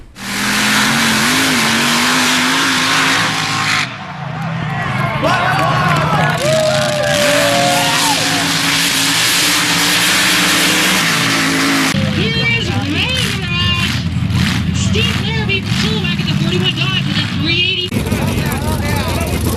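Trucks and off-road vehicles revving their engines at a mud bog event in Valemount, a loud continuous roar that rises and falls with revving, heard under talk and a crowd.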